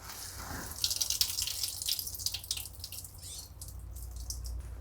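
Water trickles and splashes softly into a sink as a dish rag is wrung out, a continuous close drizzle with small drips and no talking.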